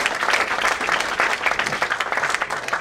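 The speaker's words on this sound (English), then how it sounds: "Let's give a round of applause to" An audience at an indoor presentation event applauds steadily, dense clapping from many hands filling the room at a fairly loud, even level throughout.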